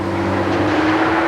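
An Eagle Vision car pulls away, its engine a steady hum with a low tonal drone that swells slightly as it drives off, close and clear with no talk over it.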